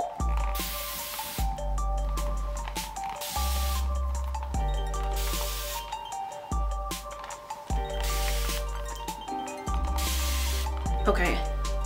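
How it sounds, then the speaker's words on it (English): A new spray bottle used on natural hair before wash day, squirting water in about nine regular hissing bursts of fine mist over a steady tonal background. "This new spray bottle, all you have to do is just spray it."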